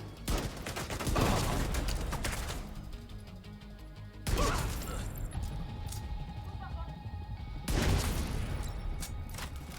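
Gunfire in the video game The Division 2 comes in heavy, loud bursts of rapid shots and booming impacts, separated by short lulls, with voices mixed in among the shooting.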